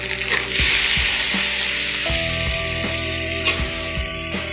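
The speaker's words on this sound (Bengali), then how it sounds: "পেঁয়াজ লাল লাল হয়ে গেছে, এখন আমি পাট শাকটা ঢেলে দেব।" Boiled jute leaves tipped into a hot pan of fried onions, with several clattering knocks and scrapes over a steady sizzle from the oil.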